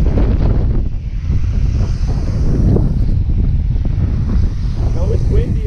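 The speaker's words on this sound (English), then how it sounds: "it's windy up here" Strong wind gusts batter the microphone in a continuous low rumble while fishing, with muffled voices faintly underneath.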